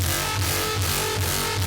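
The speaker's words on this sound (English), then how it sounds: "Mostly with the LFO you create a wobble sound." A loud dubstep synth bass wobbles from an LFO in a slow, regular pulse, about four swells in under two seconds, then cuts off abruptly.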